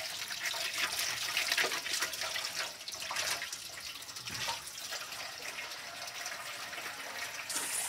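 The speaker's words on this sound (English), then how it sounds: "First wash this poppet with water." A pop-it fidget toy is rinsed under a running tap, water splashing steadily and close for the whole stretch with no talk over it.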